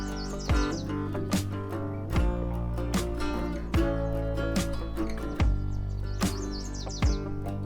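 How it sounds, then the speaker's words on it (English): Birds chirp and call in short, repeated bursts in a forest in China, close and clear over a steady background with musical tones, no speech. "the echoes of birdsong sound like nature's invitation"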